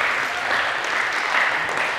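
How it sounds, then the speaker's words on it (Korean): A church congregation applauds during a Shabbat worship service, a steady even wash of clapping with no clear gaps, moderately loud and sustained throughout. "하나님께 영광의 박수 올려드리겠습니다."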